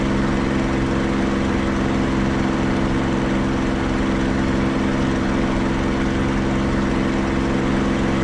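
Propeller aircraft engine in a climb with manifold pressure being pushed up, in the flight simulator game DCS World during a bomber escort mission, a loud, constant droning hum with steady tonal layers and no voices.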